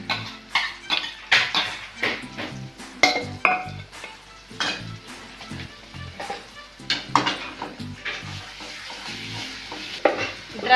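Masala and grated coconut added to a pan for a soybean dish, with repeated scraping and clinking of a utensil against the pan over a soft sizzle, stirred in uneven strokes.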